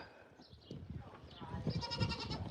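Goats bleat in a busy farm pen, several short calls rising over shuffling and livestock noise, fairly close and moderately loud.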